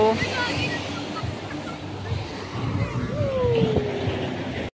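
Ocean waves wash and rumble continuously nearby, with gusts of wind on the microphone and people talking over the surf.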